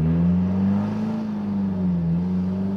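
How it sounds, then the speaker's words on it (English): Exhaust of a 1957 Triumph TR3A sports car accelerating on the road, a steady, loud low engine drone with a rising and falling pitch, close up and with no talk over it. "Love the sound of the exhaust."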